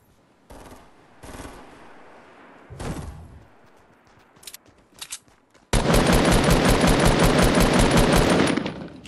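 Fortnite Battle Royale gunfire: a few scattered single shots early on, then a loud, sustained rapid burst of automatic fire lasting about three seconds before it cuts off.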